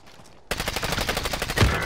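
Enemy sniper fire in the video game Call of Duty: Modern Warfare: after a brief quiet moment, shots break out abruptly as a rapid, loud series of cracks that continues to the end.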